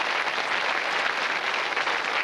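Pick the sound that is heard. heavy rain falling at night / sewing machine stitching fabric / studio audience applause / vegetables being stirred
studio audience applause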